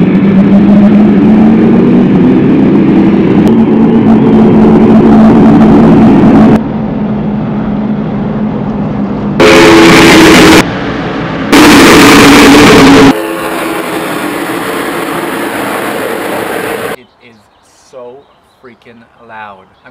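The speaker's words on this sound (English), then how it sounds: "I think the engines are on." NASCAR stock car engines roar loudly at a race, a dense, heavy rumble with choppy shifts in intensity and brief louder bursts, then dropping away to quieter ambient sound with a few chirps near the end.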